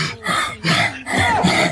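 An elderly grandmother gives a few short rough coughs and throat-clearing sounds, close and loud in three quick bursts.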